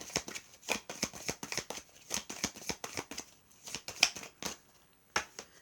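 Tarot cards handled and drawn from a deck, a quick run of close, crisp papery flicks and slaps, quiet and alone without talk.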